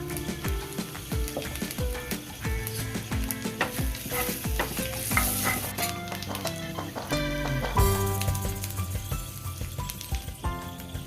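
Whole spices, coarsely ground spice powder and asafoetida frying in hot oil for a kachori stuffing, giving a continuous sizzle with stirring, partly masked by prominent tonal background music throughout.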